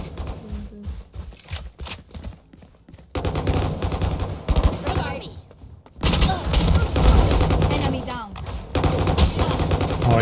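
Bursts of gunfire from the Valorant video game, some rapid and clustered, loud and close, mixed with game effects while a player talks throughout.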